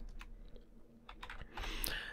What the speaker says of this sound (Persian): من میام سفارشاتو تایپ میکنم